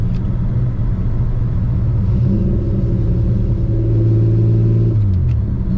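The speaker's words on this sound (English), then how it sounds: "if you put the clutch in, can you start it while it rolls?" A turbocharged 3800 Camaro engine, started while the car rolls, runs with a loud, close, steady rumble whose droning tones rise and shift toward the end.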